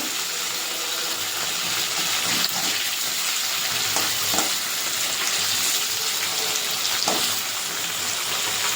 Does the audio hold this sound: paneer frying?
yes